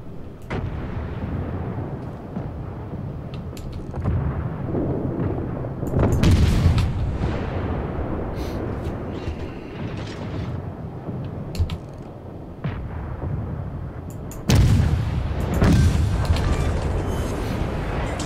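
Heavy naval guns booming in World of Warships, a series of loud blasts and rumbling bursts with a big volley near the end, continuous battle noise throughout.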